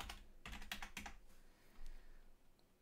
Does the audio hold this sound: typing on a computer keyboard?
yes